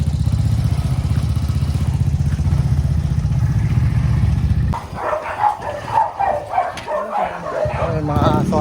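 Several dogs bark and yip in bursts nearby after a steady engine rumble cuts off, during a water refilling station delivery, with voices mixed in.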